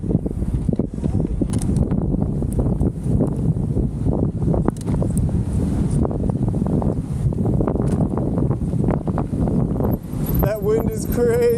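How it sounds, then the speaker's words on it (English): Strong gusty wind in Sycamore Canyon roars and buffets the microphone with a continuous low rumble, with voices partly buried beneath it. "That wind is crazy."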